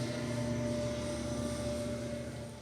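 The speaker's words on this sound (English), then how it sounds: "So many trucks, bro. That's a train." Train passing close by a podcast recording, a loud steady rumbling roar with a droning hum that holds level and then begins to ease slightly toward the end, with no voices over it.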